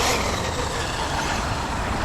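An Arrma Mojave RC car with noisy gears runs on bumpy ground, a loud continuous broadband roar and rattle of motor and drivetrain held close and steady throughout.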